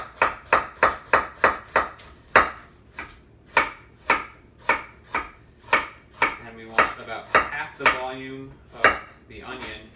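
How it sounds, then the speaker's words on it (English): Knife chopping vegetables into rings on a cutting board for chicken noodle ramen soup: a steady run of crisp, close knocks, about two dozen cuts in rhythm with short pauses, no talking. "we're just gonna cut these into nice rings"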